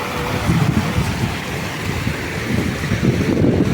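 Small waterfalls in the Carpathian mountains rush beside houses with a steady, dense roar of tumbling water that holds at one loud level for the whole stretch, with no voices over it.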